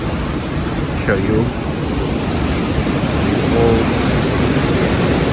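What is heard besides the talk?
waterfall at Gold Creek, Juneau, Alaska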